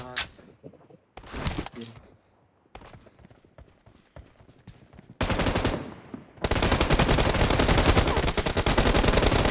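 Gunfire from a shooter video game: a loud burst of rapid automatic fire near the end follows earlier scattered single shots and clicks, with game voices calling out between the shots.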